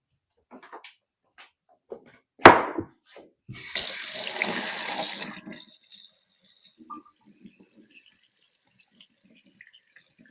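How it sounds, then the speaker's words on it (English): Running water from a kitchen sink tap as hands are washed: a steady rushing flow of a few seconds, preceded by a sharp clatter and small knocks, then fading into scattered drips and faint handling sounds. "let me wash my hands"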